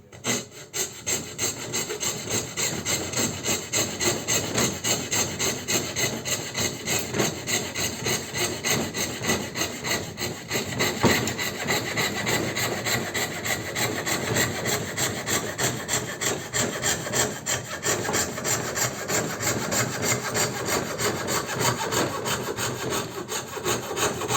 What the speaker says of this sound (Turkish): Gördüğünüz gibi gayet güzel kesiyor. Garibanın şerit testeresi.